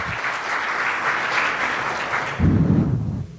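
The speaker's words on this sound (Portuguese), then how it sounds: "Aplauda o Senhor, igreja." A church congregation applauding during a service, a steady wash of many hands clapping at moderate loudness, with a heavier low thump joining near the end.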